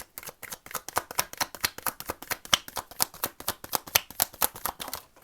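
A deck of tarot cards shuffled rapidly and continuously up close, a steady stream of crisp riffling flicks and slaps with no voices.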